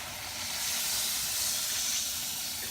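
Rice wash simmers in a pot for pesang isda, giving a steady, close hiss with a soft bubbling wash that holds evenly from start to finish without pause.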